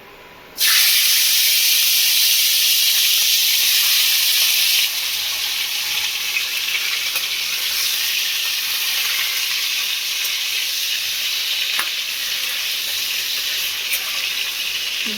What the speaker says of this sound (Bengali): এবার এতে ম্যারিনেট করা মাংসগুলো দিয়ে দেবো